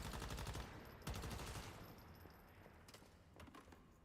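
In the video game Once Human, the Predator machine gun fires in rapid bursts at moderate loudness: a sustained stream of shots, a short pause, then another burst followed by scattered sharper reports.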